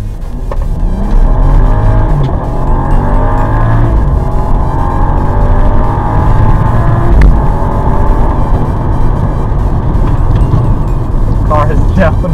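A BMW with the N55 engine and an MHD stage 2 tune with front-mount intercooler accelerating hard from 0 to 60, engine note rising steadily and loud from inside the cabin, with a voice speaking over it.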